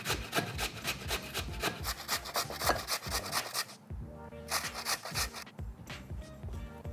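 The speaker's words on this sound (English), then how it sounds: "I want to grate these into like a tea towel or a cheesecloth" Peeled potatoes are grated by hand into a tea towel, giving continuous rapid rasping strokes, close and fairly loud, with a short lull partway through.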